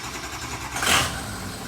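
A Ford 6.0 diesel engine cranks briefly, then catches with a short swell of noise before settling into a steady rumble, loud and close with no talk.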